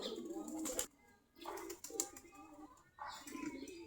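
Native Giribaz pigeons coo in three short bursts separated by brief pauses, close by and moderately loud, with a few chirpy notes mixed in.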